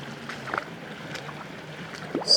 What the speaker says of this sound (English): I'm the last one to splash through.